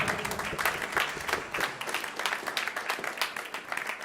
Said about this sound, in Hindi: जोरदार ताली से स्वागत कीजिए हमारे जजेस का